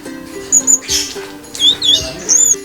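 Orange-headed thrush singing in a songbird contest, loud close whistled phrases and quick chirps in short bursts, with no talking.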